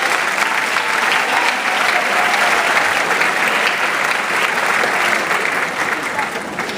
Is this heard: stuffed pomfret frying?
no